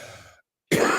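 A single short, sharp cough bursts out loud and close after a brief hush, following a fading breathy sound.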